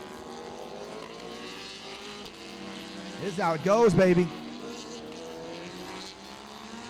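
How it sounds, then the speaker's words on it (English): Race car engines roar steadily from their exhaust pipes at a motor racing event in the Philippines, a continuous droning growl, with someone speaking briefly over the noise midway. "Listen to it straight from the exhaust pipes"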